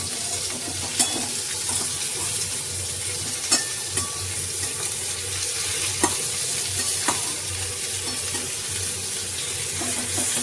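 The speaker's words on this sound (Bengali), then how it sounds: "একটু বেগুনগুলো কিন্তু ভাজা হবে, কিন্তু একটু তেলে ছোঁয়া হয়" Eggplant pieces frying in a little oil in a pan, a continuous close sizzle broken by occasional sharp stirring clicks of a utensil.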